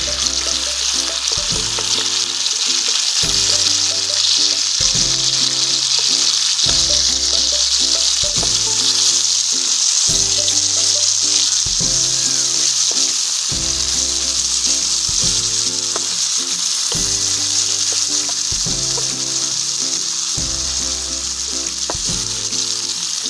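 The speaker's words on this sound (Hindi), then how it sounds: "इसके अंदर हमने टमाटर डाले हैं, उसको ज़रा 5 मिनट के लिए ज़रा भूनेंगे।" Chicken tikka with tomatoes frying on a tawa, a loud continuous sizzle close up, with repeated rhythmic scraping and stirring knocks of a utensil against the pan, no voices.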